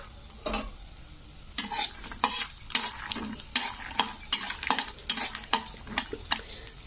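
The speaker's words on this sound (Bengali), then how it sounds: "প্রথমেই আমি বাদামগুলোকে ভেজে নেব একটু লাল লাল করে।" Peanuts frying in hot white oil in a pan, with a steady sizzle broken by repeated sharp scraping and stirring clatters of a spoon against the pan, close up and without any talk.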